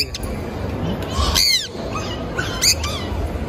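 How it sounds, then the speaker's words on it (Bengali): Sharp, harsh squawks from a cockatiel ring out twice over a muffled, noisy background at a mini zoo in Malaysia. "এটা লেগে ককাটেল"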